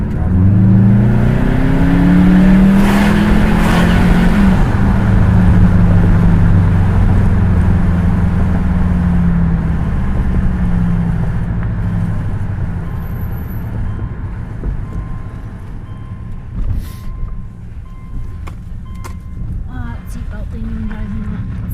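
A 2005 2.5GT car with a turbo inlet pulling into a driveway, its engine rising briefly then settling into a loud rumble that gradually fades, with scattered clicks and light thumps near the end.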